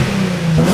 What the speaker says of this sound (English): First rev, it's now up to temperature.